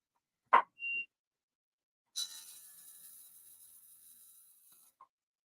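A short, thin electronic beep from a GPS device sounds once in a quiet room, followed later by a soft scraping rustle and a faint click.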